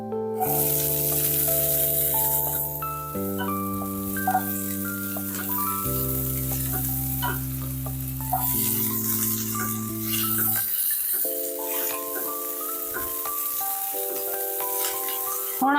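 Chopped onion and capsicum for restaurant-style chilli chana sizzle in a pan as a continuous, fairly loud frying hiss, partly covered by prominent background music throughout.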